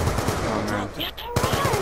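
Rapid machine gun fire in the Black Ops 2 multiplayer shooter, a steady dense burst rattling through most of the stretch with a short break, other game sounds mixed in.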